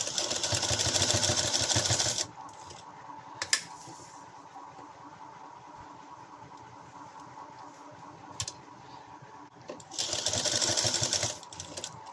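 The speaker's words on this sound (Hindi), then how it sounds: "अब हम इसी तरह से इसके चारों तरफ सिलाई लगा लेंगे" An electric sewing machine stitches a fabric sleeve, whirring in two loud, close runs of rapid needle ticking at the beginning and the end, with a quieter pause between them broken by a couple of clicks.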